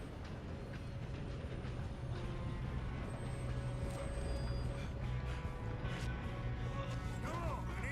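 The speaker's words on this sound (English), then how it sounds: "Come on, we need to stop this train." A train rolls steadily through a Red Dead Redemption game scene, a continuous loud rumble with faint rhythmic clatter and occasional metallic squeals, under background game sounds.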